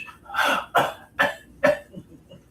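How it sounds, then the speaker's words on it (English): Four sharp coughs in a row, close and fairly loud, followed by a couple of softer, fainter coughs. "cough, cough, cough."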